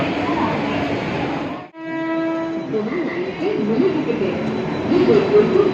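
A local train at platform two of Virar station sounds its horn in a short steady blast, backed by loud rumbling platform and rail noise, with people talking nearby.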